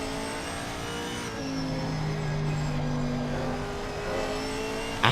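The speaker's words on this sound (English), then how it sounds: "We can listen to the Camaro V8 as well." A Camaro V8 engine in a multi-class racing video game at Spa drones with a steady, loud harmonic roar, its pitch rising and shifting as it revs through gears, continuous and alone.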